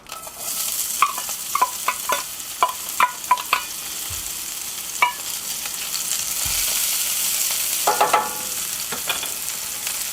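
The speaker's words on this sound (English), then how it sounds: "we're going to add the shallots first" Shallots frying in a skillet over half heat, a steady sizzle with scattered sharp clicks and scraping stirs throughout, close and fairly loud.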